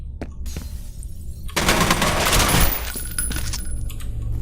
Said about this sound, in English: Just started shooting.